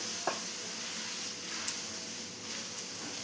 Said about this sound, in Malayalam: ഇനി ഒന്ന് ഇളക്കി കൊടുക്കണം.